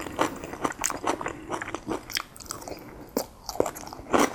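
Close crunchy bites and chewing of crisp vegetables in chow mein noodles, a rapid irregular series of sharp crackling crunches with brief pauses, loud and near, with no talking.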